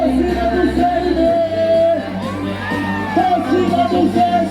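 Football fans in a crowd whooping and shouting at a show in Paripueira, a lively roar mixed under loud live music and a voice on the microphone.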